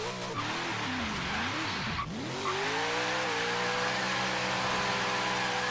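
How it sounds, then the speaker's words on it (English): A classic Dodge Challenger drag build in Forza Horizon 3 doing a burnout: the engine revs up and down, then holds a steady roar while the tires screech continuously, loud and close. "Let's see if we can do a little burnout here."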